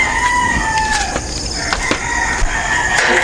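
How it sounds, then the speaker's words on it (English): Roosters crow repeatedly on an early morning walk in the Philippines, with long drawn-out calls rising over a busy background of other birds and farm fowl, fairly close and loud. "our little buddies are crowing this morning"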